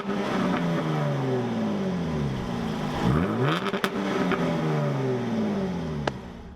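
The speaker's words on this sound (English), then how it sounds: "let's listen to how that exhaust note sounds" A 2017 Jaguar F-Type S engine revs hard through its exhaust, rising and falling in several loud sweeps, close by with no talking.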